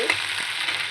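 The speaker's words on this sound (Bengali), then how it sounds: "একটু হালকা তেল দিয়ে শুটকিটা সুন্দর করে ভাজলে" Dried fish (shutki) frying in a little oil in a pot gives a loud, dense, continuous sizzle that stays steady for the brief moment, close up with no voices.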